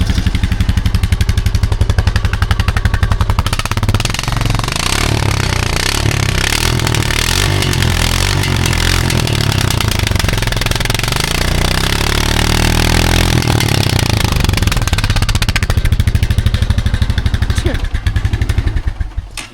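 A four-wheeler ATV engine with worn piston rings runs loud and near, revving and clattering roughly with uneven pulses before cutting off at the end.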